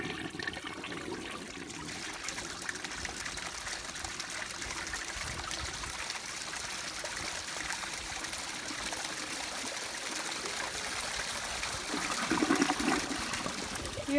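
A 1961 Standard Cadet toilet flushing in a school restroom, a steady rushing wash of water throughout, swelling briefly louder near the end, heard close and alone.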